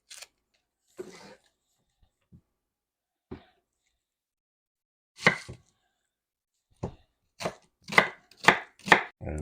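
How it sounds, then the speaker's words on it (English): Knife chopping an onion on a cutting board for pea soup, a few scattered single cuts at first, then a quick run of sharp, close knocks toward the end, with no talk. "Next thing we're going to cut up is an onion."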